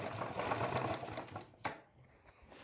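A sewing machine stitches a round collar neck on fabric, a steady fast mechanical whir that runs loud for about a second and a half, then stops with a sharp click and fades to quiet.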